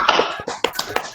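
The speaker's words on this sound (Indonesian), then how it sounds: "tepuk tangan untuk kita semua" A few scattered claps sound close by in a teacher-training workshop hall during a curriculum session. Sharp, uneven hits stand out from thin, irregular background clapping.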